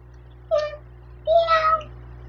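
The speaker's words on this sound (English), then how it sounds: "You're over here meowing." A house cat meows twice at close range, a short call followed by a longer, wavering one, against a faint steady hum.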